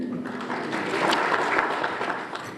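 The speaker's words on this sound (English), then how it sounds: "Give a round of applause to Mr. Bradley." A banquet audience at a Hall of Fame induction gives Mr. Bradley a steady round of applause, a dense wash of clapping that stays even and moderately distant throughout.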